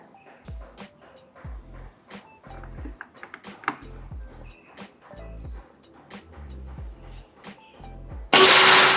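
An SR Series PCP air rifle with a Monel build fires a single sharp, loud blast at the end, preceded by a run of soft, rhythmic mechanical knocks and clicks close by.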